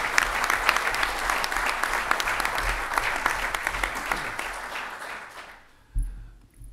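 Sustained audience applause at a motorsport press conference for the Ultimate Cup Series, fading out near the end as a voice briefly picks up.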